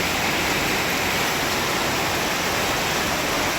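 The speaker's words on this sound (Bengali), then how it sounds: "এটা নালা, ছোটো নালা, কিন্তু বৃষ্টি হলে বহুত পানি বড় হয়ে যায়।" A dense, constant rush of flowing water fills the scene, a small drainage stream swollen by ongoing rain pouring nearby, with no other sounds standing out.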